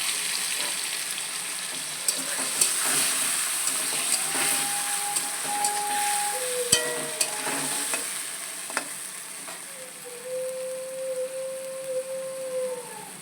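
Ginger, cumin and green chili paste frying with potatoes in a home kitchen pan for egg curry, a soft steady sizzle broken by scraping stirs and clinks of the spatula.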